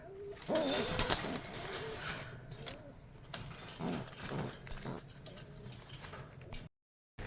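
Caged pigeons for sale flutter restlessly and coo softly, a busy mix of rustling wings and low murmuring close by, with a voice nearby and a brief cutout near the end.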